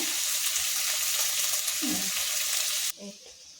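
Cumin seeds crackle and sizzle in hot oil in a steady, loud frying hiss that cuts off abruptly near the end, with a faint voice.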